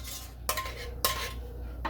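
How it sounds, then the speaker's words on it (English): Butter is worked into dough for crispy coconut chin chin, a Nigerian snack, with a utensil scraping and knocking against a bowl in two or three sharp clacks over a low steady background. "I'll mix it together to a sandy texture"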